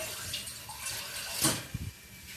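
Water is poured into a pan of black chickpea curry (kala chana masala): a short, quiet, close splashing pour ending in a couple of small drips and splashes, with no talking.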